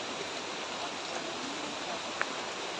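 Clear mountain stream water flowing through woodland near Taytay Falls in Majayjay, Laguna, a steady, soft broadband rush with a brief faint splash near the end.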